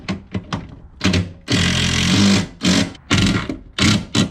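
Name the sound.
tightening bolts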